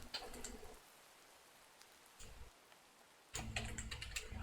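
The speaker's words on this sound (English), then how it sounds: "And of course it's raining." Steady rain patters in the Minecraft modpack FTB Oceanblock, a soft continuous hiss broken by louder crackly bursts at the start and end.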